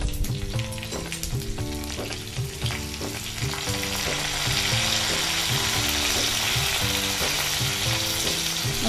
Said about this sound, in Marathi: मस्त खमंग फोडणी झालेली आहे.